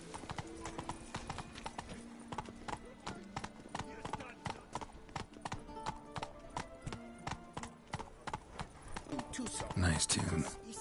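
Roach the horse gallops in The Witcher 3, with a steady rhythm of hoofbeats on the ground that builds toward a louder flurry near the end, alongside game ambience.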